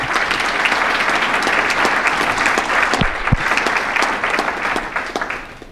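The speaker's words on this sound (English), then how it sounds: "Let's give all of our youth another round of applause," Loud sustained applause from a banquet crowd for youth bowlers at a bowling hall of fame dinner, dense clapping filling the room steadily before tapering at the end.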